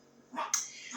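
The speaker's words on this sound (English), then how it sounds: "Every time I start recording, she's always barking." A small dog gives a couple of short, high yipping barks close by, with a brief whimpering edge between them.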